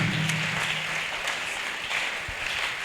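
A church congregation applauding, steady sustained clapping from a large crowd at moderate volume, with a faint low voice briefly underneath at the start.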